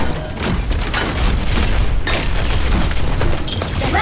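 In Overwatch, a turret is blown apart with loud, close booms and bursts of crackling impact noise. The sound runs continuously, with harsher cracks standing out from the dense wash.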